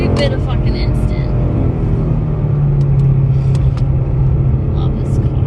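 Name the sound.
Ford Mustang GT engine accelerating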